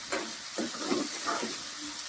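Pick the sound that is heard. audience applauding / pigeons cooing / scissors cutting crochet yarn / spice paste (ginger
spice paste (ginger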